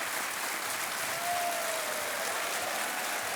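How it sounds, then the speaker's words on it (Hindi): Studio audience applauding on a TV quiz show, a dense, steady wash of clapping throughout. "तालियों के साथ इनका अभिनंदन देवी और सज्जनों"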